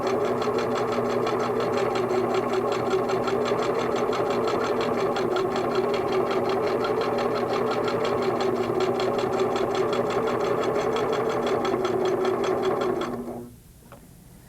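A Singer sewing machine zigzag stitches along the edge of a quilting applique piece, humming loud and steady for about thirteen seconds before stopping abruptly.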